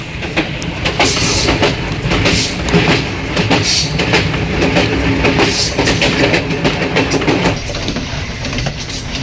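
Train rolling at speed on a double track near Rawalpindi, Pakistan, with steady rumble and rhythmic clickety-clack of wheels over rail joints, heard from inside the carriage with no talk.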